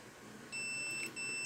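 A digital multimeter gives a long, steady high beep while testing an intact fuse for continuity, with a short break in the tone before it sounds again.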